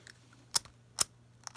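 A Zippo lighter's flint spring screw is turned down, heard as three sharp, close metallic clicks spaced apart over a quiet background with no talking.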